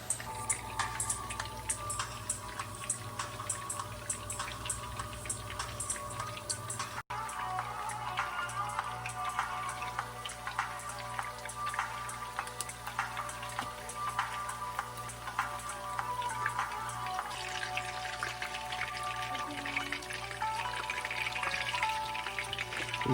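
Meatballs fry in a pan that isn't overcrowded, making a quiet, continuous crackle and patter of hot oil that runs unbroken, with faint scattered pops and no talking.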